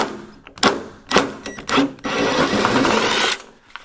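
A screw being backed out of a Jeep CJ7 door fitted to a YJ, a few sharp clicks and knocks followed by a steady buzzing whir of a driver for over a second, close and loud.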